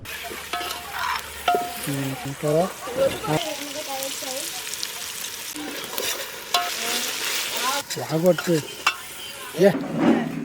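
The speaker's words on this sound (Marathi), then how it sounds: "नंतर ते मंद आचेवर छान सोनेरी रंग येईपर्यंत परतून घ्यायचे." Onion and tomato sautéing in a pan on a low flame for a chicken curry, giving a continuous sizzle with stirring scrapes and clatter while voices talk on and off over it.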